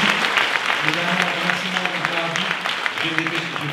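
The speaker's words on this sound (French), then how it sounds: "Je voudrais qu'on applaudisse l'ensemble de l'équipe technique du lieu" Audience applause at the end of a live stand-up comedy show in San Francisco, a steady wash of clapping in the room, with a voice speaking over it and sustained tones underneath.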